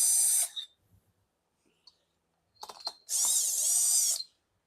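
A cheap Menards impact driver tightens bolts on a Stihl MS 500i chainsaw being rebuilt, giving two loud hammering bursts, a short one and a longer one about a second long, with quiet handling clicks between them.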